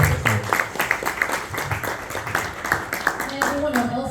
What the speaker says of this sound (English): give it up for a round of applause for these individuals who made amazing accomplishments